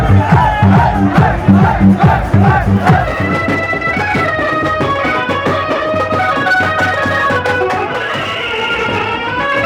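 A dense Holi festival parade crowd roars and shouts close by, with rhythmic chanting or drumming pulses in the first few seconds before settling into a steady wash of voices and music.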